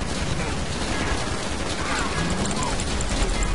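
Dense, continuous gunfire in GTA Online, rapid shots blending into a loud roar with no pauses.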